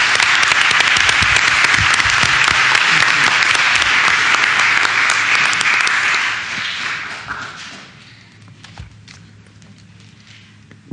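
Sustained applause from an audience at a Board of Education meeting, loud dense clapping for about seven seconds, then fading into a quiet room with a few scattered claps.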